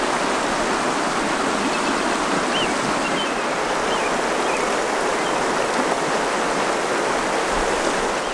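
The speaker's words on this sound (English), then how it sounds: "Like the Grays River right here next to our camp" The Greys River rushes steadily beside a campsite in Wyoming, a continuous broadband roar of flowing water, close and loud, with no voices over it for the whole stretch.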